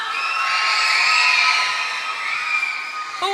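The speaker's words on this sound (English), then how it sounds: "clap it up one more time for Emma." A young audience at a summer arts festival cheers and claps for a student performer in a creative writing showcase, a dense, bright wash of crowd noise that swells, then fades and cuts off at the end.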